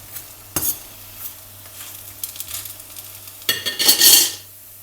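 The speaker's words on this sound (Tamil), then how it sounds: "ப்ரெஸ் பண்ணி கொடுத்து அதை நல்லா வேக விடுங்க." A parotta sizzles on a hot griddle over low flame as it is pressed down, a close sputtering hiss with scattered scrapes and knocks, swelling into a louder burst of spitting oil near the end, with no voices.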